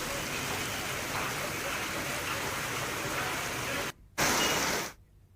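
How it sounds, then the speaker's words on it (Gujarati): Heavy monsoon rain pours down in Tankara, Gujarat, a dense, continuous hiss that cuts out briefly, returns loud, then stops. "ટંકારામાં અંધાધાર વરસાદ વરસી રહ્યો છે"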